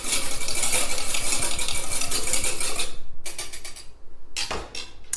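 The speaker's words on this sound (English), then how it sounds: "Okay, so I'm going to mix this up." Dressing with a dash of maple syrup whisked briskly in a bowl, a fast steady clatter of utensil against the sides that breaks into short bursts and pauses near the end.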